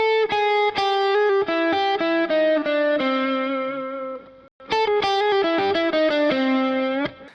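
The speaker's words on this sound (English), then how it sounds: "in this lick I will use our hammer-on pull-off technique again, and both our color tones." An electric guitar lick full of hammer-ons and pull-offs with added color tones, a slightly overdriven tone, fluid legato note runs in two phrases separated by a short pause, played loud and alone.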